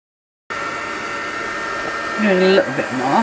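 After a brief silence, a hair dryer switches on to dry handmade chiffon flowers, blowing with a steady whirring hum, close by, as a voice speaks briefly over it.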